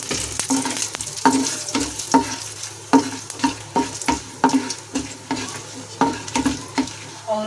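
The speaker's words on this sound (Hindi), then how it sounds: "अब मैं इसमें जीरा डालूंगी, साथ ही ये सूखी लाल मिर्ची डाल दूंगी इसमें।" Cumin seeds and dried red chilies sizzle loudly in hot oil, with a spoon stirring in quick regular strokes that clink against the pan over the constant crackle.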